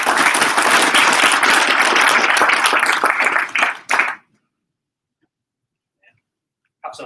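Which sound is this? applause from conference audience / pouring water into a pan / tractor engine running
applause from conference audience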